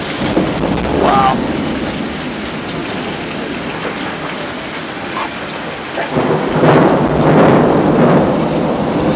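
Thunder rolls from lightning strikes in a thunderstorm near Coors Field, a loud sustained rumble with heavy rain hiss and a strong second roll swelling toward the end.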